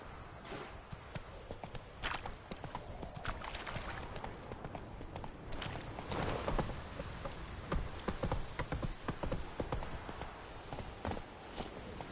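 Roach, Geralt's horse in The Witcher 3, hooves clopping in a fast, uneven galloping rhythm on the ground, close and fairly loud throughout with occasional heavier thuds and no speech.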